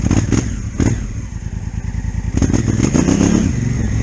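A Honda Africa Twin DCT motorcycle rides off-road on a slight uphill. Its engine and exhaust make a close, loud, throbbing rumble, with short revving bursts and mechanical clatter.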